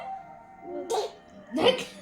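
A child imitates a dog barking, giving two short voiced yaps close to the listener, with a brief pause between them.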